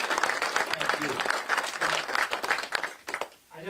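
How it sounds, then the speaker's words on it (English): Audience applause at an Iowa campaign event for a presidential candidate, uneven clapping that swells and dips, with a speaker's voice heard over it near the end. "Give this man a round of applause for what he does every day for his children."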